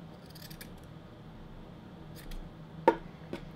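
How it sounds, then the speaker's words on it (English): Scissors snip through mask fabric in a few sharp, close cuts, a brief pair early then two distinct crisp snips near the end over quiet room tone. "cut out a little bit of fabric, throw the rest to the side, cut this in half"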